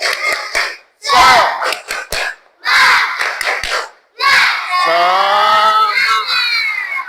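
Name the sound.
class doing 'tepuk semangat' spirit clap and chant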